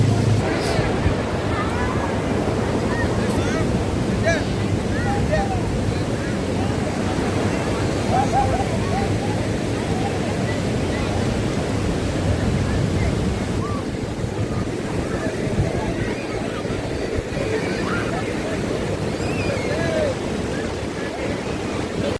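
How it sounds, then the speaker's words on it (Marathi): Sea waves and surf wash steadily along the shore at Diveagar at sunset, mixed with wind noise on the microphone and the faint drone of a distant ride boat, loud and continuous throughout. "ती तिकडे बोट गेले."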